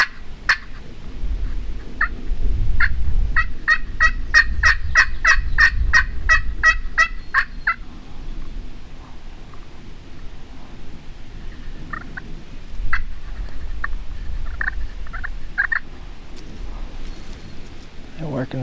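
Wild Michigan turkey gobblers sound off outdoors, a loud rattling gobble with rapid pulsing notes near the start, followed by several fainter, scattered gobbles and clucks later, over low wind rumble.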